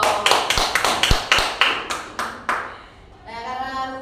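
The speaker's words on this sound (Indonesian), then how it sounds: "Tepuk tangan buat temannya dulu dong." Classroom applause for a student, a short burst of about a dozen sharp claps in quick succession that fade out, followed by a brief tonal sound at the end.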